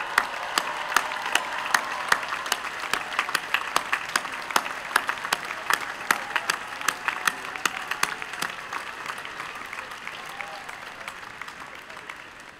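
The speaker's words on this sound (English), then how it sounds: "please stand so we can give you a well-deserved round of applause" Sustained crowd applause at a university commencement ceremony honoring early graduates, dense steady clapping with sharper claps standing out, gradually thinning toward the end.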